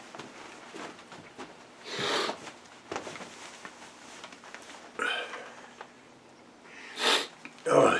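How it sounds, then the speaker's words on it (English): Several short sniffs through the nose, close and moderate in volume, spaced irregularly over a low background with faint rustling in a workshop. "Oh, excuse me, sniff"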